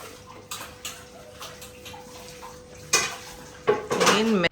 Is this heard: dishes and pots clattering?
yes